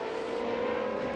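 Coppa Shell Ferrari race cars on the Jerez de la Frontera circuit accelerating flat out uphill toward turn one, a steady, loud, droning engine roar with no talk.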